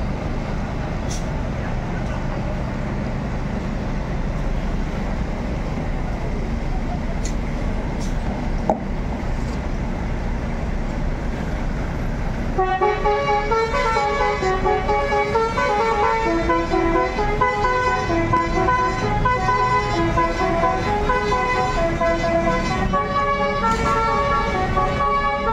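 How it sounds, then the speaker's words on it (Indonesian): Buses arriving from Ranah Minang at the Pondok Pinang bus terminal sound loud, melodic horns, with repeated musical honking dominating the second half over a steady engine rumble and crowd noise. "Bus yang baru sampai dari Ranah Minang di terminal Pondok Pinang"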